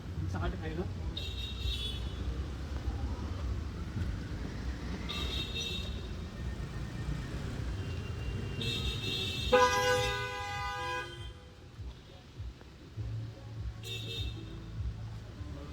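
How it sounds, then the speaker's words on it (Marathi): Busy street traffic near Santacruz market in Mumbai, with a low rumble of engines and several short car horn toots plus one longer blaring horn, while people talk nearby. "ट्रॅफिक आहे. रस्ता क्रॉस करायला देत नाही."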